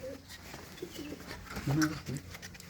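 Pigeons coo in a coop housing a keeper's prized racing birds, soft repeated coos rising and falling near the microphone amid low background murmur.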